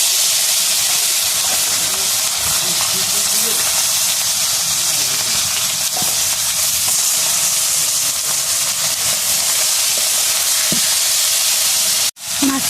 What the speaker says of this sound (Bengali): লবণ হলুদ দিয়ে মাছটা আমি ভেজে নিব।